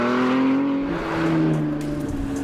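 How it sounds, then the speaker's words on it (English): Ford GT's twin-turbocharged EcoBoost V6 race engine drones loud and close, a steady buzzing tone that shifts pitch slightly as it revs, with no talking. "this V6 engine is lighter for racing purposes, and it also utilises Ford's EcoBoost turbocharging system"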